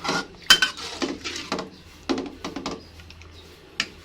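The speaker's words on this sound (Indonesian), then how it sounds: "Kita aduk-aduk." A utensil stirs chicken liver and gizzard in a metal pan, giving a string of scraping clinks and knocks at an irregular pace, with one sharper clank near the start and quieter taps after.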